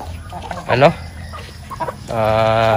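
Chickens raised on a provincial farm cluck in a short burst, with a few softer clucks after, while someone talks nearby.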